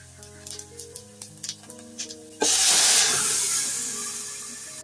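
Onions go into hot oil in a pot for a bitter gourd, potato and fish curry. A sudden loud, steady sizzle bursts in partway through and slowly eases, after quiet ticking and a low hum.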